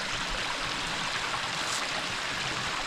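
Small waterfall on a woodland creek in Vermont in late November, a steady broadband rush of falling water with no pauses, close and fairly loud.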